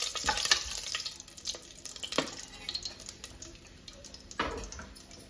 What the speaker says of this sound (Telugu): చక్కగా కలుపుకోండి.